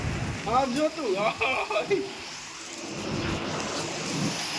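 Hail and rain drum on a tiled roof in a dense, steady patter, with someone speaking briefly at the start before the rattle carries on alone.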